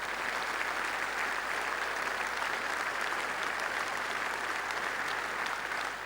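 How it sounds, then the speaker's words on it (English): A memorial service audience applauds in a steady, sustained wash of clapping that fills the room evenly for several seconds, moderately loud and without talk over it. "let's put our hands together and give him a round of applause to celebrate"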